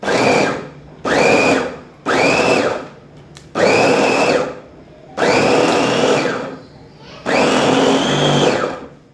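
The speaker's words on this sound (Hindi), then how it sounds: "सबसे पहले जो है मैं इसे चॉपर में डालती हूँ" An electric chopper minces meat in short pulses, six loud whirring bursts with brief pauses between them, the motor whining close up.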